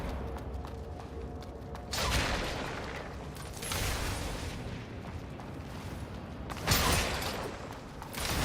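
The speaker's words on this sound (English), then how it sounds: "Missile barrage" Missile barrage in the video game AI Limit: a loud, dense rush of explosive blasts, with broadband bursts near 2 s, 4 s and 7 s over continuous rumbling impacts and mechanical clatter.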